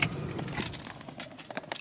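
A set of keys jangles in a hand, a steady metallic clinking and rattling that continues close to the microphone for a couple of seconds, with faint vehicle noise in the background.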